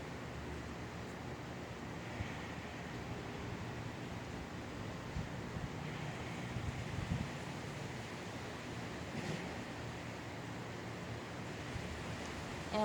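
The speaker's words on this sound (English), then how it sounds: "I'm outside in the windy weather" Steady outdoor wind rushes continuously, a broad low roar buffeting the microphone throughout, with no speech.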